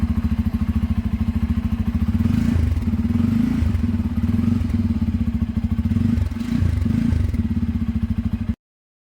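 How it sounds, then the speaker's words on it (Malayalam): Bajaj Pulsar N250 motorcycle exhaust at idle with blips of revving, a steady low throbbing pulse close to the microphone that runs for about eight seconds and then cuts off abruptly. "നമുക്ക് ഇതിൻ്റെ എക്സോസ് നോട്ട് സൗണ്ട് കൂടി ഒന്ന് ജസ്റ്റ് ഒന്ന് കേട്ടോക്കാം"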